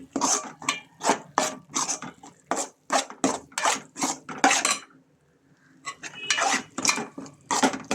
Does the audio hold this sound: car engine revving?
no